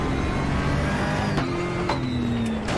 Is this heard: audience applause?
no